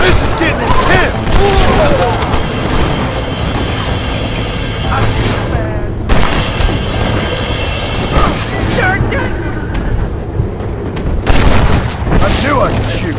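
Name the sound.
gunfire in the video game Red Dead Redemption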